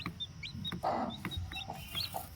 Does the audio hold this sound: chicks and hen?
yes